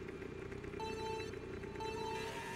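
A quiet notification chime during a Mario Kart tournament, a thin tonal ping sounding twice over a steady hum of background noise.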